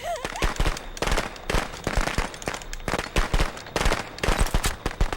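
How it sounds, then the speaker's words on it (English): Firecracker going off in the Friday the 13th video game, a rapid crackling string of sharp pops and bangs, loud and close, with no talk. "Firecracker!"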